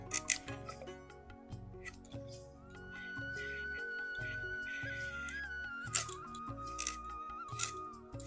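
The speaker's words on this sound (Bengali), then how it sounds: "বিট আর গাজর এরকম সরু সরু করে কেটে নেব।" A knife slices beetroot and carrots into thin strips for a vegetable chop, giving a run of crisp, regular cuts close by over steady background music.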